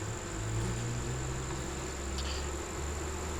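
Honey bees in backyard hives hum as a steady, soft drone with a high whine above it, holding level and unbroken with no voices over it.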